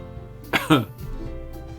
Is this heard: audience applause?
no